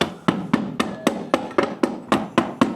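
A hammer taps the outer housing of a regenerative vacuum pump to loosen it during disassembly: ten sharp, evenly spaced metallic knocks, loud and close, each with a short ringing tail.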